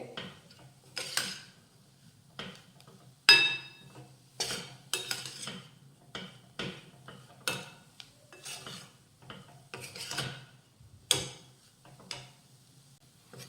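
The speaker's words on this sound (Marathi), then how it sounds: "अशा गुठळ्या मोडत मोडत आपल्याला हे परतून घ्यायचे" Spatula scraping and clinking in a pan as gram flour is sautéed with onions on low heat, lumps being broken up; irregular scrapes and taps, close and fairly quiet, no talking.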